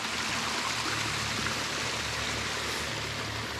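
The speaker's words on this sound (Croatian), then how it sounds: "Planinarska voda." An alpine mountain stream rushes through the Höllentalklamm gorge in the Bavarian Alps, a steady, close, broadband roar of flowing water that continues unbroken throughout.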